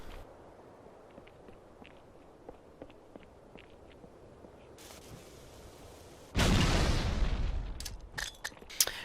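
In Halo 2 on the Lockout map, a grenade explodes through a wall with a sudden loud boom that decays in rumbling debris after a stretch of quiet footsteps and faint clicks.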